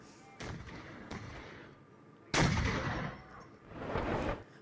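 Pakistani gunfire along the Line of Control: three sharp, echoing bangs at irregular intervals, then a longer rumbling burst, all heard at a distance over faint background noise.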